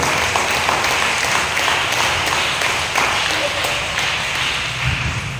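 Applause and clapping from a congregation at a church gathering in Muntinlupa City, a steady mid-level wash of hands under a reverberant hall ambience with scattered voices.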